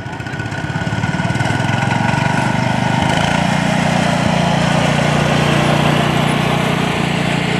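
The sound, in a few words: 1972 Cub Cadet tractor engine driving in a parade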